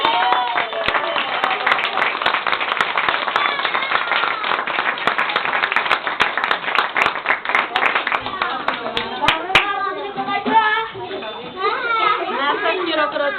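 Children's New Year play audience clapping steadily and close for about nine seconds, thinning out toward the end as adults and children talk and call out.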